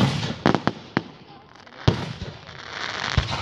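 Fireworks going off at a backyard firework show, a series of sharp cracking bangs at irregular intervals, some close together, with crackle and outdoor ambience between bursts.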